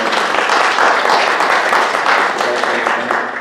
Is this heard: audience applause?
yes